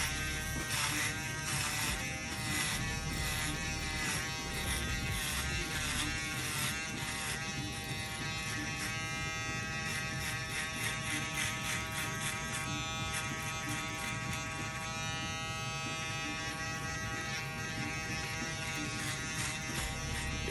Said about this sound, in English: Listen to how this thing crunches.